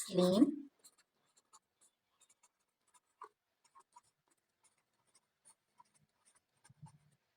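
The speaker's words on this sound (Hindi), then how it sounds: "तो यहाँ पे हम सबसे पहले सलीम की टोटल सैलरी लिखते हैं कितनी है" Pen strokes on paper while a math percentage problem is worked out by hand, faint, sparse scratches and taps spread across the clip after a short burst of voice at the start.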